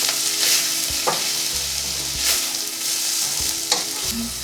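Vegan cottage pie filling frying in a pan, a soft sizzle broken by a few quick scrapes of a spoon giving it a brief stir, close and moderate, no voices.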